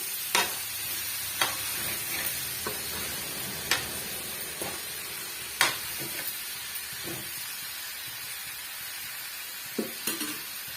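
Bitter gourd sautés in a pan for kuzhambu with a constant frying hiss, and now and then a utensil clacks sharply against the pan. It goes on steadily, with no voices.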